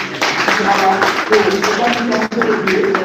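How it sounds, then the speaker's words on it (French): Audience at a Werrason press conference clapping together, a dense, steady patter of many hands close by that fills the whole short clip at high volume. "Est-ce qu'on peut applaudir la femme, s'il vous plaît?"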